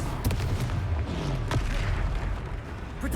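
Confringo, an explosive spell, is cast in Hogwarts Legacy, giving a loud, deep blast with a low rumbling tail, followed by a few sharper impacts against continuous background game noise.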